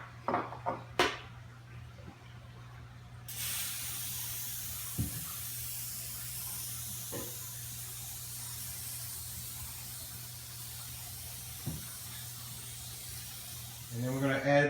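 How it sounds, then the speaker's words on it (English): Cooking spray hisses onto a baking pan for cornbread in a home kitchen, a steady close spray lasting about eleven seconds after a few light clinks, with a voice briefly heard at the end. "So now the next important thing is to spray your pan really good."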